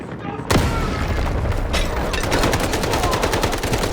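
A loud, sharp blast hits, followed by continuous rapid gunfire and rumbling booms, dense and close, with game-style battle noise throughout, from the video game Delta Force.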